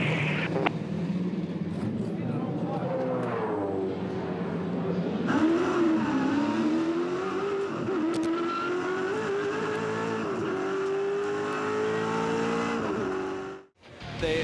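A Supercars touring race car pulls away from its pit box down the pit lane at Phillip Island during a 2006 championship race, its engine note rising steadily and loud and close over a busy pit-side din, with faint voices in the mix.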